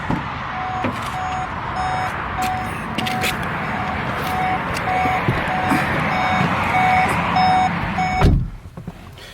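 A VW e-Golf electric car sounds a regular repeating warning beep for driving off with the charging port open, a steady pulse over cabin rumble, ending in a brief thump.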